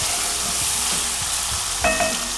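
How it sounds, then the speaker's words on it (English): Chopped tomatoes fry in a pan for shrimp and spinach bow-tie pasta, with a loud, steady sizzle close by and brief stirring scrapes. "I'll leave this for about another 30 seconds to fry."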